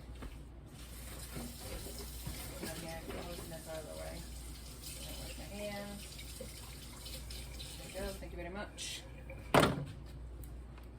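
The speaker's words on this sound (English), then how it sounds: "Now, let me wash my hands and wash my blade." Tap water runs in a kitchen sink as hands and a knife blade are washed, a soft steady stream with faint clinks, broken near the end by a sharp knock, under a person talking.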